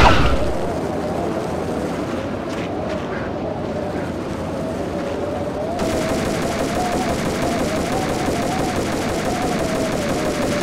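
Gunfire aimed at thick cables in the video game Max Payne: a dense, continuous roar of rapid shots blending with engine-like rumble, loud and sustained throughout, with a brief drop in the high end midway.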